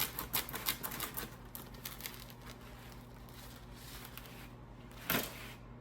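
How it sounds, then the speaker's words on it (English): Pizza wheel slicing through a crispy bread machine pizza crust, a run of quiet crunchy crackles and scrapes near the start and one sharper crunch later, over a steady low hum with no talk. "So let's cut into our pizza here"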